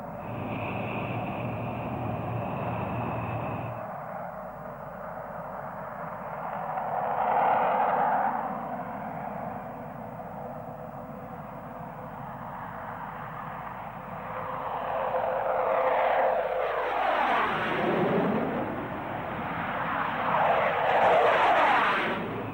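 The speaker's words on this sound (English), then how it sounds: "The Skyhawks are obviously fun to fly." An A-4 Skyhawk jet takes off, its engine whining and then building into a rising, echoing roar that swells and fades as the aircraft accelerates away.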